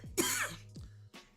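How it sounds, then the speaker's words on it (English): Close, quiet coughing: a harsh first cough followed by two shorter, softer coughs, with nothing else around. "I'm sorry, I'm coughing."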